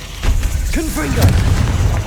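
Confringo spell blasts in Hogwarts Legacy, a deep booming burst with a rumbling low tail, loud and close under game noise and a brief voiced chirp.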